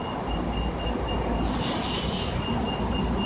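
A train at a busy central railway station gives off a loud, steady rumble with a high wheel squeal rising briefly in the middle, continuous and close, with no talking.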